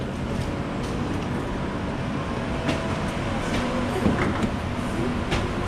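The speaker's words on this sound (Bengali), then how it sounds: "সো ট্রেন চলে আসছে" A train pulls into a station in Bali with a steady, low mechanical rumble and faint clanks, close by and continuous.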